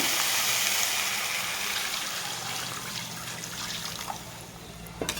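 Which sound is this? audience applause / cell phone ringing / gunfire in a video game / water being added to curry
water being added to curry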